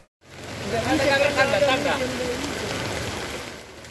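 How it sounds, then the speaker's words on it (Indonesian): Heavy rain pours down in a dense, continuous hiss during a storm with strong wind in Medan, rising quickly after a brief silence, with faint voices underneath. "angin kencang disertai hujan turun dengan derasnya"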